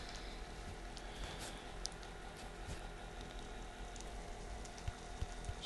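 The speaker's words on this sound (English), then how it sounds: "I need it to rain for a second" Rain falls in Minecraft as a faint, steady patter with occasional louder drops, a soft continuous hiss with no voices.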